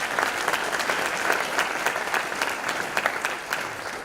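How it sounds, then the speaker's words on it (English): Audience applause at a teacher education award ceremony, a steady wash of many hands clapping that holds evenly at moderate loudness for the whole stretch, with no talk over it. "Can we have a round of applause for all of them, too, as well?"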